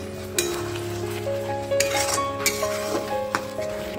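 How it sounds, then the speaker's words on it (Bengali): Garlic spinach with thick milk stirred in a pan, a steady soft sizzle beneath a few scattered utensil clinks and scraping strokes against the pan, close and moderately loud. "খুব ভালো করে এই সময় একটু নাড়িয়ে চাড়িয়ে নেবো"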